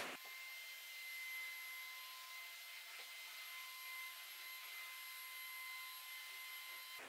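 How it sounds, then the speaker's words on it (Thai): A vacuum cleaner runs steadily while a bedroom is tidied, a continuous close whine with a high tonal hum that holds for the whole stretch with no break. "แต่ก่อนอื่นเรา ดูดฝุ่นแป๊บหนึ่ง"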